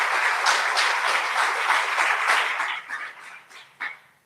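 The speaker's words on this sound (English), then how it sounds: "let's give them another round of applause" Audience applause at a live political forum, a dense wash of clapping that holds steady for nearly three seconds, then thins into scattered claps with one last sharp burst before fading out.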